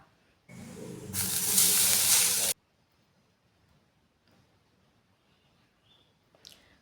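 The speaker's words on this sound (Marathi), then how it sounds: "मुळा किसून झाल्यावर एका कढईत थोडा लालसर होईपर्यंत मुळा भाजून घ्यायचा." Grated radish roasting in a kadhai, a loud hissing sizzle lasting about two seconds and then cutting off to near silence, with a small knock near the end.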